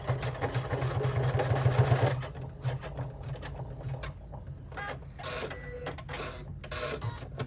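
An embroidery machine stitching a Hip Hugger bag runs with a steady mechanical whir and rapid needle chatter for about two seconds, then continues in quieter, intermittent bursts of stitching.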